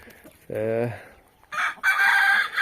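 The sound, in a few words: rooster crowing and chickens clucking on a farm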